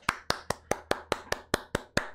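A single pair of hands claps about ten times in a steady, slow rhythm, each clap crisp, close and evenly spaced, with no talking.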